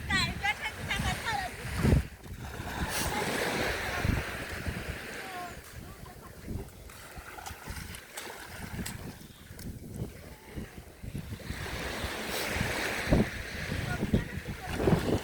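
Beach water and waves wash and surge in broad noisy bursts, mixed with wind buffeting the microphone, while voices talk now and then in the background.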